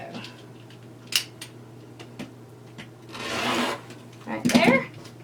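Scissors cut deco mesh for a Valentine's truck wreath: a few sharp snips, then a longer rustling crunch of the mesh being sliced, ending with another burst of cutting and crinkling, all close by.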